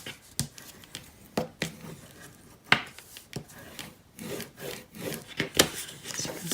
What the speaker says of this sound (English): Fold it up and burnish it.